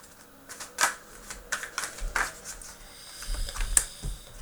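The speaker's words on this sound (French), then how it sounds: "on va vous couper les cartes" Tarot cards being cut and shuffled by hand, with soft papery riffles, scrapes and taps coming close and fairly quiet in irregular bursts.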